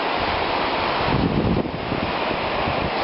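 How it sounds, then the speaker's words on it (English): Steady roar of ocean surf washing onto the shore, with gusty wind buffeting the microphone throughout. "The waves aren't that high, but I like to have them crashing more than normal."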